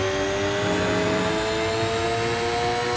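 Race car engine in a Le Mans endurance racing video game, a loud, steady high-pitched drone held at constant revs throughout, close and unbroken.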